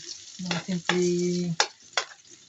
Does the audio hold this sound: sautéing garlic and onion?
yes